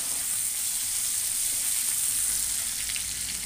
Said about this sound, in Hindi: अभी अपना राई क्रैक हो रहा है तो हम डालेंगे ये अदरक और मिर्ची